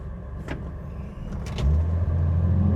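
The engine of a 1966 Chevy Corvair, which had a replaced ignition coil and an overcharging fault, runs close by with a low rumble. Partway through it surges into a heavier, uneven drone.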